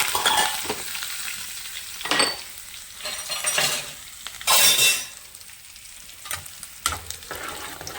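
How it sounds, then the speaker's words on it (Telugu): Cumin, garlic and curry leaves crackle and sizzle as they are tempered in hot oil for Andhra avakaya pickle, a steady frying hiss with louder bursts as ingredients hit the pan and occasional clinks of a utensil, no voices. "జీలకర్ర, వెల్లిపాయలు కూడా చక్కగా ఈ విధంగా తాలింపులు వేసుకుంటున్నానండి"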